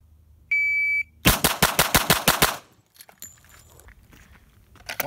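A Glock 41 pistol fires .45 ACP rounds in a fast string of about nine loud, sharp shots, each cracking close by. A single electronic shot-timer beep comes just before the string, and faint range noise follows.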